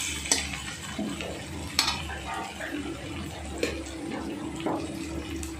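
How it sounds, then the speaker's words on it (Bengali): Crushed garlic and ginger frying in a pan, a soft sizzle under several sharp spoon clacks against the pan as it is stirred, with some low background voice. "আদা রসুন মিলে 1 চামচ দিয়ে এটা ভালো করে নেড়ে নিচ্ছি।"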